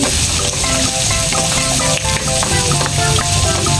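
Chopped onions sauté in hot oil for pork sinigang, a dense, loud sizzle with light scraping and stirring clatter underneath, close and constant throughout without talk.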